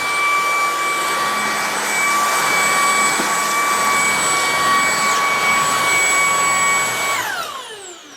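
A Tineco cordless vacuum cleaner runs on a rug with a loud, steady high-pitched whine, then spins down with a falling tone as it switches off near the end.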